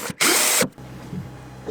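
A standard drill drives a screw through plywood into metal, giving a short, loud whirring burst of about half a second, followed by quieter mechanical rumble nearby.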